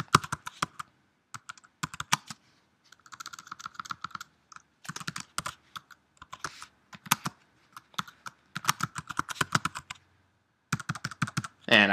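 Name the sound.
typing on a computer keyboard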